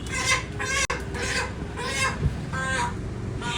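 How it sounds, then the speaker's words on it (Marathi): Two roosters cluck in repeated, loud, close bursts, one after another in a steady rhythm, with no talking. "आज घेतले घेतल्यात दोन कोंबडे"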